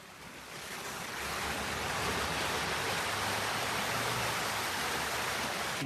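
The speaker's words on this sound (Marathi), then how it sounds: "त्याचा फ्लो ह्या पूर्ण डोंगरातून वरून डोंगरातून खाली पाणी येते." Monsoon rainwater rushing down a hillside in Konkan, a loud continuous roar of flowing water that swells in over the first second and then holds steady and close, with no talking.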